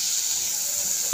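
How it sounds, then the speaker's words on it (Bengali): Eggplant slices fry in hot oil with a steady, close hiss of sizzling that holds level throughout a brief moment. "বেগুনগুলোকে ভেজে তুলে নেব। বন্ধুরা, ভালো করে ভেজে নেব"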